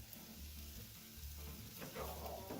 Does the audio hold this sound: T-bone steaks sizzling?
yes